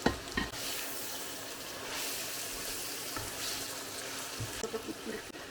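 Vegetables, including peppers, sizzle in a hot pan as a spoon scrapes and stirs them, with a few clinks and a steady frying hiss.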